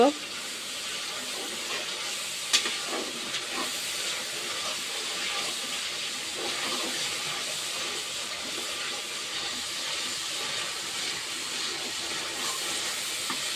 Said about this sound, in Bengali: মশলাটা ভালো করে কষাই নিব